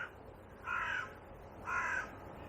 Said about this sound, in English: Oh, look, sparrowhawk. Being chased by that crow.